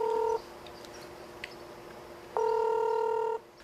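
Two steady dual-tone telephone dialing beeps, one short at the start and one longer about a second later, sound clearly in a quiet office at a community children's center before a morning call to a guardian.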